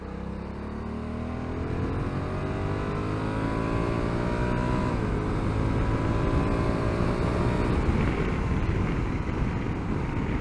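Engine of a 2022 Honda CRF1100L Africa Twin Adventure Sports DCT motorcycle, revs dropping in third gear in Sport 2 mode on the road, a steady loud drone with descending harmonic tones over constant wind rush and no talk.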